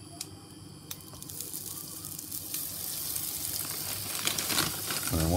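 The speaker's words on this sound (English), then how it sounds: "we're going to fry this off in batches. So there's our beef getting quite crispy" Beef frying in smoking-hot oil for crispy beef with pak choi noodles, a steady close sizzle that swells louder through the clip, with a few sharp crackles.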